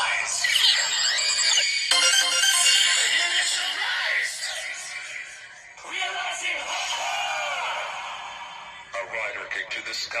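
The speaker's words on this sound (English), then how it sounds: "Got a phone call." A phone rings with an incoming call, its ringtone a loud, bright song with a singing voice that plays continuously, pausing briefly partway through.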